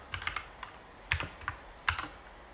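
Someone typing code on a computer keyboard, a few irregular clusters of crisp plastic key clicks with short pauses between, close and fairly quiet, no voices.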